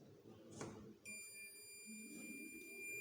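A continuity tester buzzing steadily as its probes touch the current coil of a double-speed squirrel cage three-phase induction motor, a faint thin tone starting partway in over low room noise.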